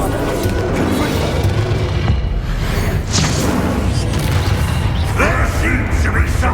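Spell explosions from the video game Hogwarts Legacy: repeated booms, thuds and swooshing blasts in a dense, continuous barrage of combat effects, loud throughout with clanking mechanical layers.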